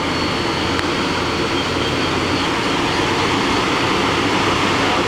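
A Mori Seiki NL3000Y/1250 CNC turning center with Y-axis milling and bar feeder runs its spindle at speed, a loud, steady whirring roar with a broad hiss and no pauses throughout.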